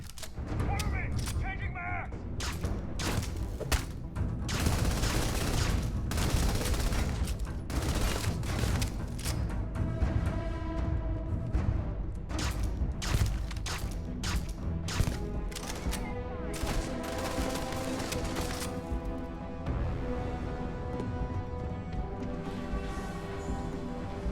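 Rapid, sustained gunfire from a weapon in the sci-fi video game Starfield, with dense bursts of shots and mechanical clanks continuing loudly and nearly without pause under game music.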